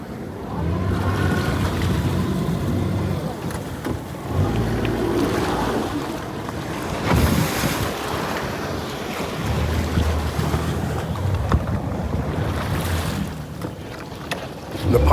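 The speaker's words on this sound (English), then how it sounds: "The pilot's trying to get a sense of the timing of these sets of waves coming in." Ocean waves roll and surge in repeated sets around a sailboat, loud and close, with heavy wind buffeting the microphone and water rushing in swelling, irregular pulses.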